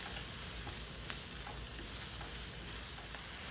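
Mushrooms sizzle steadily in a little olive oil in a hot pan, a continuous close frying crackle with faint pops and light ticks throughout, no voices.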